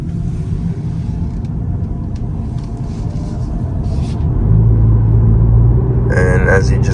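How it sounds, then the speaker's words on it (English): A 2025 Toyota Camry hybrid's gasoline engine starts up while driving slowly after running on EV power, adding a low steady drone beneath the road rumble inside the cabin. "the motor just kicked on"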